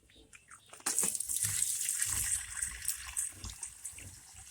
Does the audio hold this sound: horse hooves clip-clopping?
no